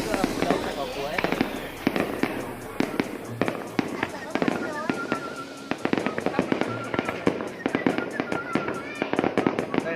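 Lunar New Year's Eve fireworks display at Hoàng Su Phì in highland Hà Giang, Vietnam: dense rapid bursts and crackling booms in quick succession, some loud and near, with whistling rising shells and people talking and exclaiming throughout.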